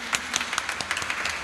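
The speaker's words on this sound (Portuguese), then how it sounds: "uma salva de palmas para Jesus" Congregation clapping for Jesus during an evening Pentecostal church service, a brief burst of scattered, uneven claps in a reverberant hall with a voice faintly beneath.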